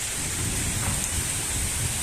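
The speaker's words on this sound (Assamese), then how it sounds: "কি প্ৰকাণ্ড ডাঙৰ ধুমুহা এজাক আহিলে" Steady heavy rain pours down with a deep rumbling underneath, like thunder in a storm, continuous throughout.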